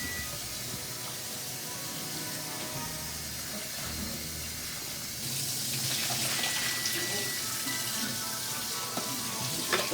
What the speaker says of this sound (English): So I'm just gonna run cold water on these.